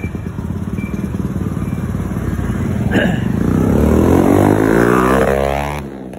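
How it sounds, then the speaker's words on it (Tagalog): A motorcycle engine with a stock, non-open-pipe exhaust runs close by, a steady throbbing rumble whose pitch climbs toward the end as it revs, with no one talking. "Yung motor ko hindi naman open pipe yun"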